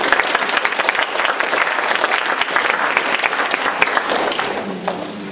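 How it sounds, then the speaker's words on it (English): Audience applause for a lecturer at a university lecture series, loud, close and continuous clapping from many hands, steady for several seconds before easing off at the end. "give your attention and applause to Dr. Chen"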